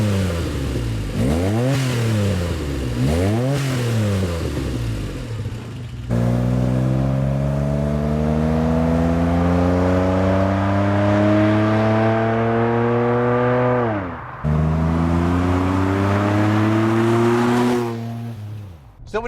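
DeLorean engine of about 120 horsepower revving through an aftermarket free-flowing exhaust: a few quick blips first, then two long sustained pulls that climb steadily in pitch before dropping off, loud and close with no talking.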